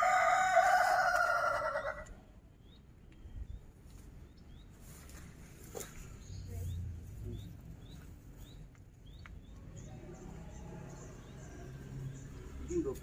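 A rooster crows at the start, a loud, strained call lasting about two seconds, followed by quieter outdoor background with faint chirping and distant murmuring.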